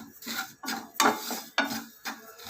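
Dry ajwain (carom seeds) roasted without oil in a pan over medium flame, with repeated scraping strokes of a spoon against the metal pan, about five rhythmic stirring passes, close and clear with no talk.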